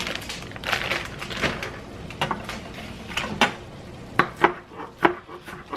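A knife chops through lettuce on a paper plate, cut up for taco night: a steady run of crisp tapping strikes, close and fairly loud, grows sharper and more spaced toward the end.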